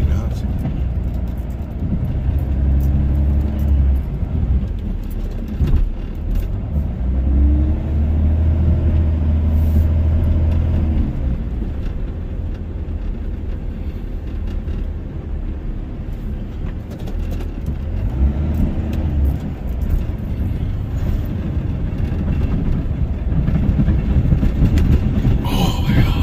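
A Dodge Ram with a Cummins diesel rumbles low and steady while plowing cold, light snow over rocky ground, its engine swelling and easing, with people talking at times.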